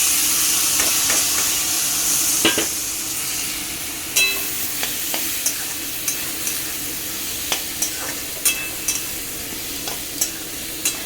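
Peas are added to a pan of frying spiced curry base with coriander, turmeric and chilli powder, giving a steady sizzle and hiss broken by repeated sharp spatula scrapes and clicks, with no voices.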